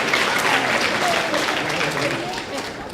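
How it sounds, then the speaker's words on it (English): Applause from parents, families and a fifth grade class at a school moving-up ceremony, a dense steady roar of many hands that fades slightly toward the end, with some voices mixed in. "please thank your parents and families with a big round of applause"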